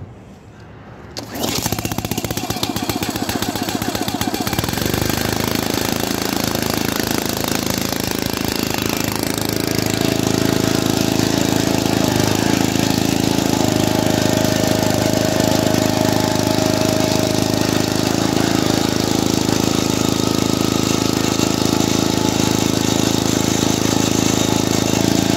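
A Honda engine on a hydraulic log splitter starts after a brief quiet moment, then runs steadily and loudly at a constant drone for the rest of the clip.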